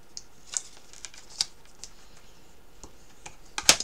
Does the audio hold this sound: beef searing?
no